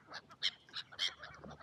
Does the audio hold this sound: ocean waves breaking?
no